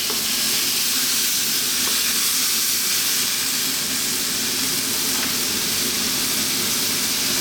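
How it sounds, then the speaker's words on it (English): Pork and vegetables stir-frying in a hot pan, with water added to steam them: a loud, steady sizzle and hiss that continues without a break and with no talking. "that water is just going to steam out and help our vegetables cook nicely"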